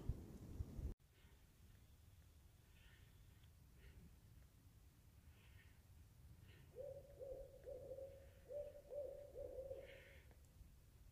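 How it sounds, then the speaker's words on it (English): An owl hoots softly in the distance, a short series of low, wavering calls over a quiet outdoor background on a mountain hiking trail, the Appalachian Trail. "I think that's an owl."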